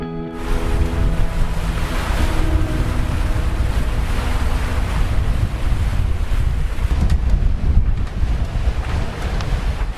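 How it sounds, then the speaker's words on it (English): A sailboat at sea pounds into wind and waves, with loud roaring wind buffeting the microphone and constant rushing, slapping water throughout. "We were just bashing into wind and waves."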